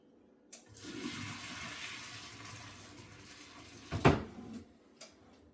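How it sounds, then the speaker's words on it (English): Hot water from cooked lasagna noodles pours into a strainer in a steady rushing stream, ending with a hollow clunk of the pot and a brief splash. "Now we're going to drain the water off of our noodles."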